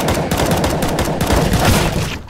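Rapid gunfire crackles through a match of Counter-Strike: Global Offensive on the Dust 2 map, a dense, loud burst of shots running almost continuously for a couple of seconds with no talk over it.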